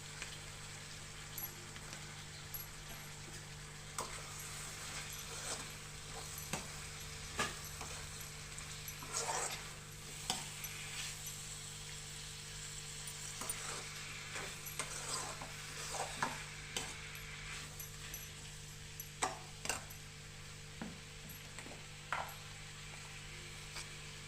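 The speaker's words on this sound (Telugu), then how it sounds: "కడిగి పెట్టుకున్న కాకరకాయ ముక్కలు వేసుకోవాలి." Washed bitter gourd pieces fry in a pan with onion for a curry, giving a steady low sizzle with scattered scraping clicks as they are stirred, fairly quiet throughout with no talk.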